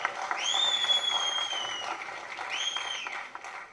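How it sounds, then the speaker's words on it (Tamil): Friends in a cinema theatre clap and cheer, a busy spray of applause with sharp whistles and whoops rising above it. "அங்கே கனிஷ்காவுடைய நண்பர்கள் தனியாக அவனுக்கு வந்து ஹோலர் பண்ணி கைத்தட்டிக்கிட்டே இருக்காங்க ஆக்சுவலாக"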